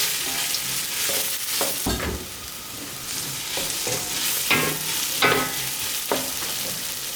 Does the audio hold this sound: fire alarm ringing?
no